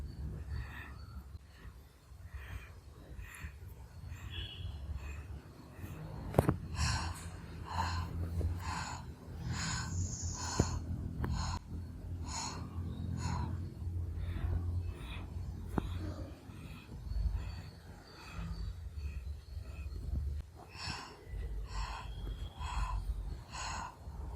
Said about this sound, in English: inhale through the nose step by step and exhale through the mouth step by step